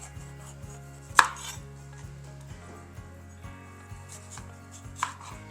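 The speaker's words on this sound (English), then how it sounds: "If you cut along the edges like this and kind of just go with the curve, it helps you not have seeds everywhere." A kitchen knife slices around the curved edge of a bell pepper while kabobs are being prepped, giving a few soft, close cuts and one sharper board tap near the start and another near the end.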